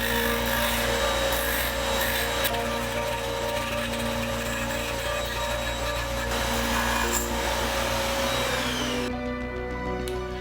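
A tool trims excess parts from adjustable plastic connectors salvaged from motion sensor light switches, making a steady close grinding, rasping drone with a humming undertone that cuts off near the end.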